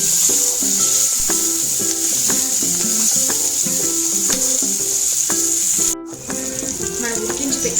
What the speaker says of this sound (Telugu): కొంచెం కరిగి అండ్ కొంచెం ఇంగు యాడ్ చేశాక కొంచెం ఫ్రై చేస్తాం.